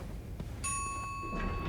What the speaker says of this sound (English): elevator doorbell is ringing